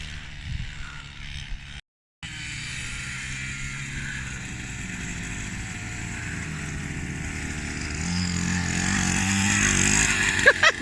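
Boys ride 50cc mini motorbikes, a thin buzzing two-stroke drone at moderate distance that cuts out briefly, then returns and slowly grows louder and higher as the bikes run, with faint voices around.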